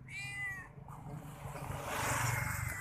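A cat gives a short meow near the start, then engine-like rumbling and background noise take over.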